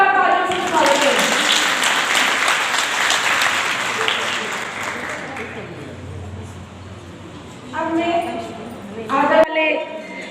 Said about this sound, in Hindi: मंचासीन अतिथियों का जोरदार तालियों से स्वागत करें